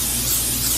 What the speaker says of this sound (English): just regular cooking spray, nothing special